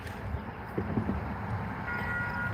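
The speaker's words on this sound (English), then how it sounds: "I still have the videos of the rail train that went through LSRC." A rail train passing through a junction, a low continuous rumble of cars rolling by with a few faint clanks and a thin tonal squeal near the end, heard from a moderate distance without talk.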